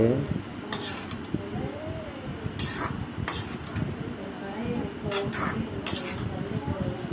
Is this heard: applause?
no